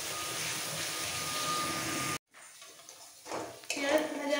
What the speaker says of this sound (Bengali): এবার এই পেঁয়াজ বাটা ভাজা পেঁয়াজ একসাথে ব্রাউন করে ভেজে নেব।